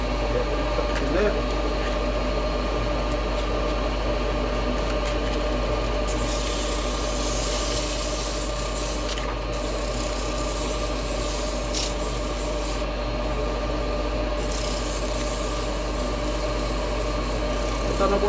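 Continuous abrasive hiss of 180-grit sandpaper pressed against a wooden Christmas bell spinning on a lathe, with the lathe's steady motor hum underneath and small shifts in pressure throughout.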